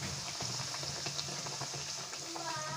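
Bhatura fry in hot oil, giving a soft, continuous sizzle and bubbling hiss with fine crackles, fairly quiet and unbroken.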